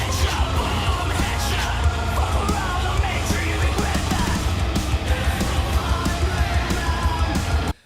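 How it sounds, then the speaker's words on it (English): Dense, loud metal mix with snappy programmed drums and dark, heavily distorted guitars, playing continuously at full level before stopping abruptly at the end. "The drums are, like, really snappy, and the guitars are, like, really fucking dark."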